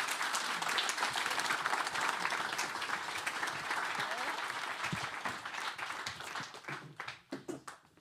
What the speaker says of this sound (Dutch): Heel erg veel dank geven ze en een heel erg hartelijk applaus.